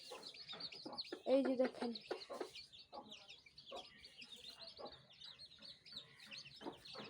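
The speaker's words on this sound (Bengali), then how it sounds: "আপনারা দেখছেন মুরগির বাচ্চাগুলোকে" Newly hatched chicken chicks on a village farm peep and cheep in a busy high-pitched chorus, with a hen clucking close by and someone speaking briefly over them.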